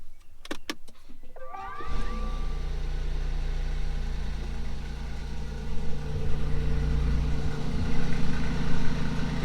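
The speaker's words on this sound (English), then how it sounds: "You can't miss the sound of that mid-engine." A BMW i8 mid-mounted engine cranks with a few sharp clicks, then catches and settles into a loud, steady idle with a deep rumble that swells slightly.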